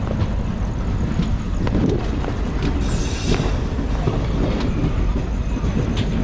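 The 12745 Manuguru SF Express rolls along the rails as a loud, continuous rumble heard from on board, with scattered clicks of wheels over track joints and a brief high hiss partway through.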